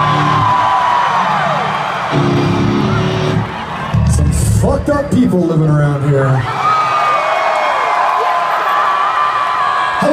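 A concert crowd outdoors at Red Rocks Amphitheatre cheers and whoops at a show, a loud roar of shouts and applause swelling in the middle, with someone speaking over it.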